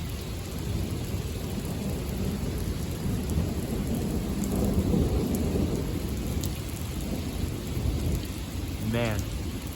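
Heavy thunderstorm with steady loud rain pouring throughout and rolling thunder rumbling underneath, close and continuous, with no talking.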